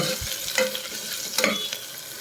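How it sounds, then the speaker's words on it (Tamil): Chopped onion and garlic sautéing in oil in a pan, a continuous sizzle broken by a few scraping stirs of a spoon, close and clear with no talking. "இது எல்லாத்தையுமே நல்லா வணக்கிக்கோங்க."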